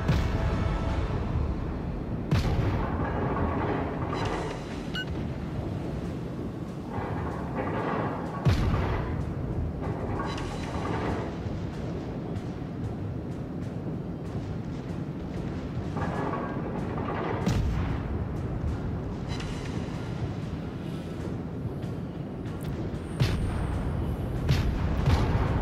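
Repeated heavy booms of warship guns firing at irregular intervals in the video game World of Warships, over a continuous rumbling background of engine and battle noise.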